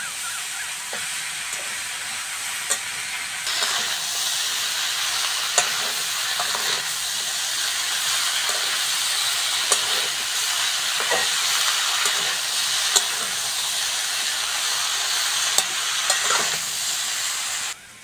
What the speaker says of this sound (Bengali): ভালো করে কষতে হবে, তাহলে খেতে খুব ভালো লাগবে।